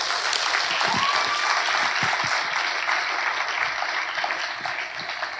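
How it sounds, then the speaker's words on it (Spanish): A church congregation claps together in a steady, dense wash of applause that holds evenly for several seconds, then tapers slightly, heard from within the room. "Vamos a darle un aplauso al Señor por eso."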